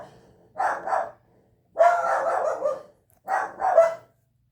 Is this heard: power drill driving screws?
no